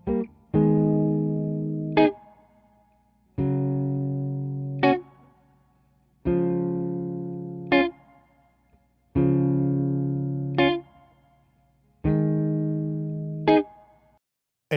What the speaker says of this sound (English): This first one was recorded with a Royer 121 and it sounds like this.